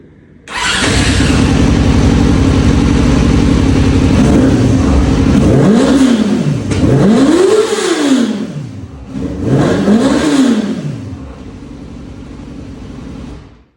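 An engine fitted with its exhaust baffle cranks and catches, then settles into a loud steady idle before three rising and falling revs swell and drop back, close to the listener with no talking.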